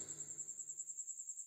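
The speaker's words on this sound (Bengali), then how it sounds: "কেবল বাইরে ঝিঝি ডাকছে।" Crickets chirp outside at night in a faint, steady pulsing trill, with no other sounds around them.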